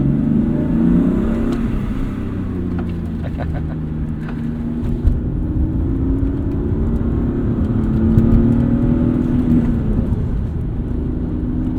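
A BMW E36 engine pulls steadily under load from inside the car, a loud droning growl whose pitch climbs gradually and levels off, with road rumble beneath and no talking.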